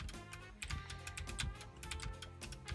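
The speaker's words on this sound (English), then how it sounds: "Sorry about the loud keyboard sounds." Quick, continuous clacking of computer keys, steady rapid tapping close by with no voices.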